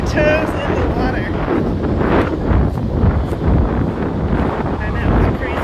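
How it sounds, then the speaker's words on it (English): Gusty wind buffets the microphone on a breezy but mild beach, a rough, fluctuating rumble with faint surf and a voice underneath. "It's definitely breezy, but it's not cold."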